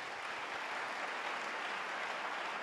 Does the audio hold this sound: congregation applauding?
yes